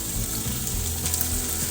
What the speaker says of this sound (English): That's the sizzle you want to hear.